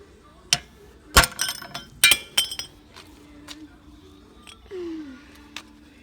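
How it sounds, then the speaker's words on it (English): Crusty rivets are punched out of a metal flange held in a vise on a John Deere 400 rotary hoe, giving several sharp metallic strikes and clinks spread unevenly, with brief scraping and a short tonal squeal between hits. "We'll stick these in here and try to punch them out."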